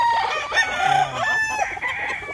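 A pure white gamecock, a fighting stag, crows loudly up close and clucks, the calls ringing out repeatedly over a busy farmyard background with other fowl.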